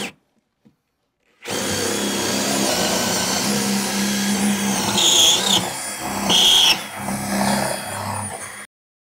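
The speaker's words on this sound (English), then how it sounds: "So now I got my holes drilled." A power drill bores holes in a wall to mount an electrical outlet box, a loud continuous whirring run of about seven seconds that surges and dips in pitch under load, heard alone without talk.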